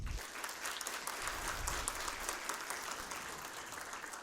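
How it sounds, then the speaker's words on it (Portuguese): Audience applause at the close of an official opening ceremony for a Brazilian engineering event, a dense, even burst of clapping from a crowd lasting the whole stretch with no talk over it. "eu peço uma salva de palmas."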